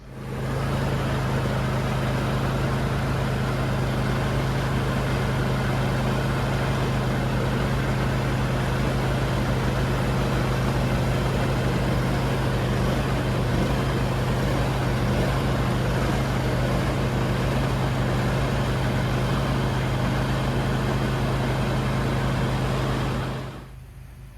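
A John Deere D125 lawn tractor fitted with a 42-inch snowblower runs with a loud, steady engine drone and a strong low hum. It holds unbroken for over twenty seconds and then cuts off abruptly at the end.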